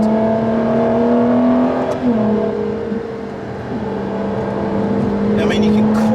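Ferrari LaFerrari accelerating hard, its engine a loud, close, steady howl that dips briefly and then climbs again, with someone talking over it throughout.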